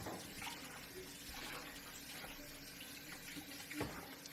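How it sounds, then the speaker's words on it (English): Water from a kitchen tap runs steadily into a bowl for cleaning, a soft continuous splashing hiss heard close by and fairly quiet, with no voices. "I want to add more water to it."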